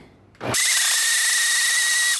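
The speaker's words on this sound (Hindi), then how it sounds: "अब इन सबको हम ग्राइंड कर लेंगे।" A kitchen mixer grinder starts up after a brief quiet moment and runs steadily at high speed, loud and close, grinding fried onions and green chillies with a little water into a paste.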